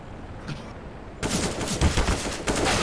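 AK rifle fire in a video game wingman match breaks out suddenly after a quiet start, a dense burst of close, loud gunshots that keeps going to the end.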